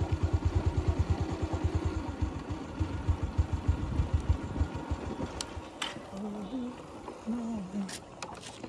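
A motorcycle engine idles with a steady, rhythmic low chugging for about five seconds, then softens beneath voices talking nearby.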